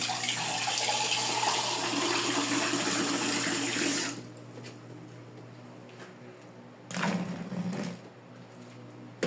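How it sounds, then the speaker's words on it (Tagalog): Water pours from a tap into a container while homemade dishwashing liquid is being made, a loud steady splashing rush that cuts off after about four seconds, followed by a brief second pour and faint handling sounds. "mag-add ako ng konting water"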